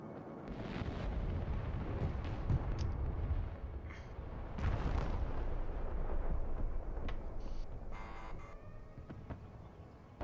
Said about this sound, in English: I've been mortaring them this entire game from this left flank